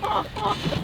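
Chickens cluck in short, close bursts with a broody, murmuring tone, continuous for under a second.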